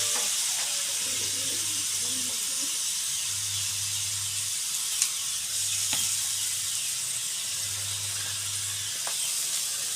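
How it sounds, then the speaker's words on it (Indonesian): Water poured into a hot pan for a balado dish of minced meat and tofu sets off a steady broad steaming hiss and sizzle, close and constant, with a faint hum beneath and a couple of small clinks. "Setelah itu kita tuangkan air secukupnya ya, sesuai selera ya."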